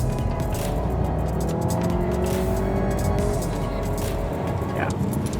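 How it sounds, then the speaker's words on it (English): Volkswagen Tiguan AllSpace SUV in sport mode, its exhaust droning steadily and loudly from inside the cabin as it accelerates, engine note rising with quick gear changes. "turn on the sport mode, there's a lot of noise that comes out of that exhaust"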